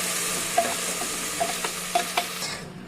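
Ground masala paste added to onions frying in a pan for salna, a soft continuous sizzle with several light scraping stirs of a spoon, close and fairly quiet.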